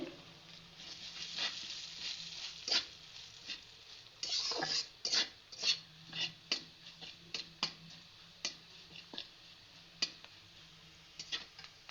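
Dried chilies and onions fry in a pan for a fried beef dish, a soft steady sizzle beneath frequent close clicks and clinks of a utensil stirring against the pan.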